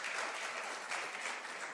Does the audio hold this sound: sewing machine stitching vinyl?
no